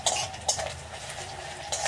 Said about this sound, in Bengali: পেঁয়াজটা একটু ভালো করে ভেজে নিই।